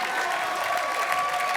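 Audience applause fills a comedy stage show, a steady wash of clapping hands from a crowd, loud and continuous without pause.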